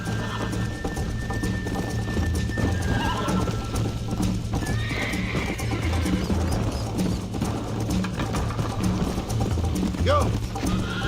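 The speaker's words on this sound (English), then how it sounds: "I think you chose the wrong horse, Miss McFarlane." Horse hooves clip-clopping at a gallop with a whinny in the Red Dead Redemption video game, steady and close amid game sound, with a voice speaking over the ride.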